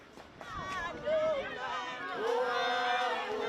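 A small, agitated mob of people on the move, hunting for foreigners on an African street, gives a babble of shouting and raised voices with yells rising above the crowd noise.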